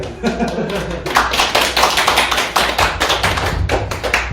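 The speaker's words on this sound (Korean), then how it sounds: "박수 주세요" A crowd at a year-end joint gathering of three political groups claps continuously, a dense patter of many hands at close range, with loose individual claps standing out and faint voices mixed in.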